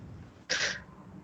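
A single short, sharp sneeze bursts out over a quiet background hum, brief and fairly close.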